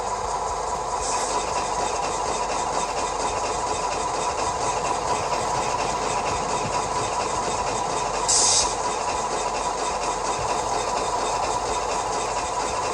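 A model train engine running on a layout during a kit-build session, giving a steady, continuous mechanical hum and whir with a brief higher hiss near the end, close and fairly loud.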